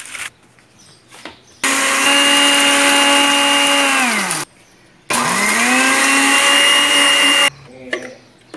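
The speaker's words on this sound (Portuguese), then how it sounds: "agora vamos colocar no liquidificador para estar fazendo a farinha" A blender whirs loudly in two long bursts, grinding eggshells into powder for garden fertilizer, its motor pitch dropping as each run winds down, with gritty grinding inside.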